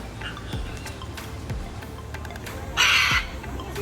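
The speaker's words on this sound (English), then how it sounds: "So here are some parrots, and they seem to be fighting" Parrots squawking and fighting outdoors in Cancun, Mexico, with a few harsh caws scattered through the clip and one loud, bright burst of squawking near the end.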